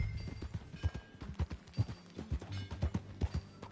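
Horse hooves thud in a steady galloping rhythm as a horse is ridden in the video game Red Dead Redemption 2, close and moderately loud, with faint ambient sound behind.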